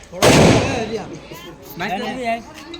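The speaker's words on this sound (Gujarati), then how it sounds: "બરાબર આઠના વાળા ફટાકડા ફોડી છે મોટા ફટાકડા નથી ફોડતા" Small cheap firecrackers from a ten-rupee pack burst outdoors, one sharp loud bang opening the clip and then fading, with people talking afterward.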